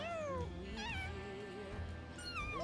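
Cartoonish cat meows from the video game Mewgenics, several rising and falling mewing calls in a row over a low game backdrop.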